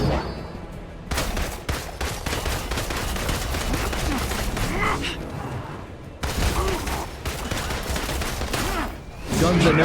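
Loud, sustained gunfire in Marvel's Avengers: rapid automatic bursts rattle almost continuously, with a short break around the middle before the shooting resumes.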